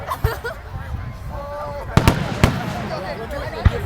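Canada Day fireworks bursting outdoors, a few sharp pops and booms spread unevenly over a few seconds, heard amid background crowd chatter.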